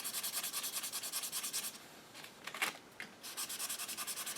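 Hand sanding a wooden HW30 air rifle stock with 220 grit paper, close and steady: rhythmic back-and-forth rasping strokes, a brief pause with a few lighter scrapes, then the regular strokes resume.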